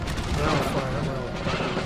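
Massed musket volleys crackle and boom across an Empire: Total War battlefield, a dense, rolling fusillade of overlapping shots continuing without a break under a speaking voice.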